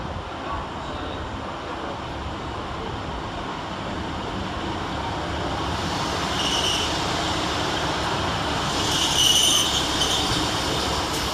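A Transport for Wales class 152 diesel train pulls into Cardiff Queen Street station with a continuous broad rumble that grows slightly louder, followed by faint high wheel squeals near the end.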